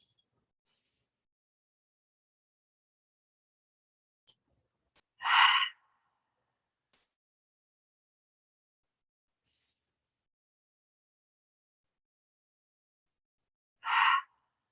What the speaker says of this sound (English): inhaling, maybe inhaling even gratitude for this breath, and exhaling gratitude for that release. 2 more big breaths.